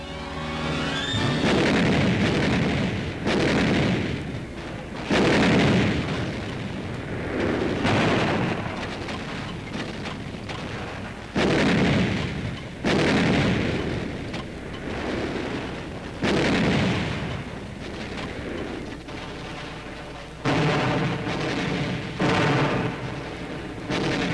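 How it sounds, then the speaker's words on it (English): Repeated heavy booms of World War II artillery fire at Iwo Jima come from an old film soundtrack. Each loud rumbling blast roughly every couple of seconds decays into the next across a long barrage. "We call for artillery."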